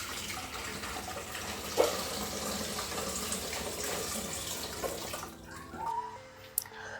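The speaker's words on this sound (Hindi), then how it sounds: "इसमें मैं आरओ का पानी डालूंगा" RO water poured from a mug into the 4-litre tank of a HiFresh tower cooler, a continuous close splashing gush that tapers off, followed by a brief drip and a small clink.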